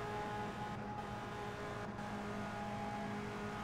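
A Lotus race car with a Ford engine running down the straightaway at the 1965 Indianapolis 500, a steady faint whirring engine drone with a distant crowd-like wash.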